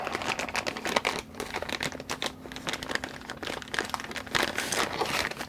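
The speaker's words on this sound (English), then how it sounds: "Crinkle, crinkle, rattle, rattle." Dense, close crinkling and crackling of plastic packaging with light rattles as strips of transistors are handled, steady and continuous with no talk.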